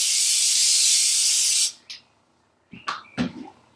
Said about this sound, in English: We're going to spray some of this stuff right in the center of our yoga mat and the center of our